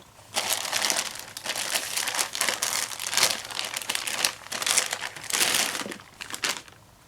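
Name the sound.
pulling the side packaging pieces off a car stereo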